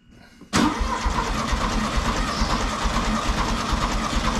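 A 1967 VW 1500cc engine cranks over during a compression test, starting abruptly after a brief quiet moment and then churning loudly and steadily with a rhythmic, even turning sound close up, and no one talks over it.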